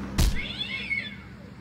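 A kitten in the adventure game Randal's Monday gives one drawn-out, wavering meow right after a short dull thump, clear and alone.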